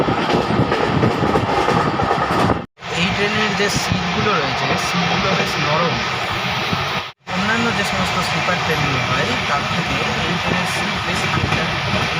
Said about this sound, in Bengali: ট্রেন তার দুর্দান্ত গতি নিয়ে ছুটে চলেছে নিউ ফারাক্কার দিকে